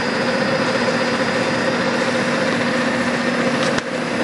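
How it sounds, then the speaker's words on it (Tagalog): An air conditioner compressor runs steadily at 24 degrees, a continuous mechanical drone with a clear tonal hum, close and loud, with no speech. "So, mandar na ang compressor natin."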